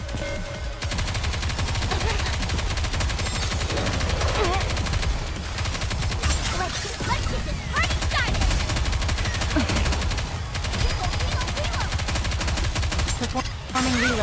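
Sustained gunfire crackles through a simulation battle in the game Goddess of Victory: Nikke, rapid bursts and volleys layered thickly over a dense game mix for the full stretch, with faint voice beneath.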